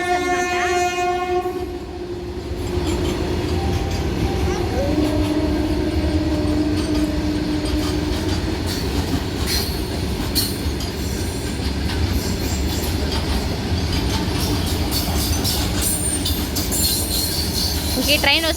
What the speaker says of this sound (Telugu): ఎంత ఫాస్ట్గా వెళ్ళిపోతుందో చూడండి గూడ్స్ అయితే